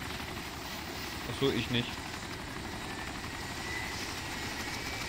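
A helicopter in the video game DayZ Epoch runs with a steady, droning rotor and engine hum, fairly quiet, while players talk briefly over it.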